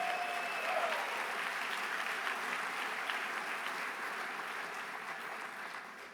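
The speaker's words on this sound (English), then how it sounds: "how about a warm round of applause for the men and women serving our food here today" Warm, sustained applause fills a room at a mayors' meeting luncheon, many hands clapping steadily and slowly fading at the end, with no speech over it.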